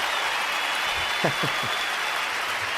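Dense, continuous applause fills the whole stretch at an even, loud level, with many hands clapping together.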